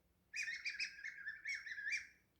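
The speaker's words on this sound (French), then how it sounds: "Il va y avoir 2 appos, un qui représente les petits oiseaux" A little bird-call whistle used as a children's musical instrument, giving a run of bright, warbling chirps that start abruptly and carry on for about two seconds, close and clear.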